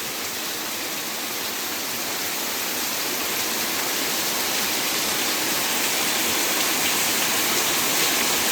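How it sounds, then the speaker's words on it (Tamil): Heavy rain pours without pause for hours, a dense, loud, even hiss of downpour that slowly grows slightly stronger, with no voices. "அப்பா என்ன மழை தான் இப்போ இவ்வளோ அநிலமாக பெய்து கொண்டிருக்கு"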